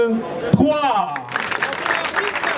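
An audience at the burial ceremony for comedian Tcheko Jeremy breaks into applause after a voice speaks. The clapping swells into a dense, steady patter that holds to the end, with talk mixing in over it.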